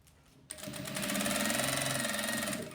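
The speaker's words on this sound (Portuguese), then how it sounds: "e passo a costura." After a quiet moment a sewing machine starts up and runs a seam on faux napa leather, a close, steady, rapid mechanical whir that holds to the end.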